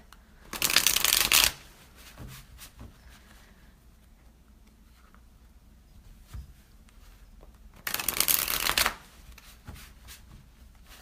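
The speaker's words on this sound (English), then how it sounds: "I'm going to shuffle a little bit" Two bursts of rapid tarot card shuffling, a riffling flutter near the start and another later, with quiet handling between.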